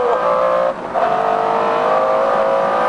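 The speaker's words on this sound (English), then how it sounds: "Up to sixth gear, and it's still accelerating harder and harder." A McLaren F1 supercar engine pulls hard through the gears, a loud, close, sustained howl that dips briefly at a gear change before climbing again.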